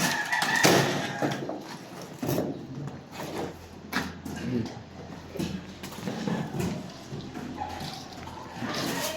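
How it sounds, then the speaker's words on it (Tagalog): Chickens cluck and fowl call in short scattered bursts close by, with voices talking over them and some water splashing. "Ang mga manok at bibi."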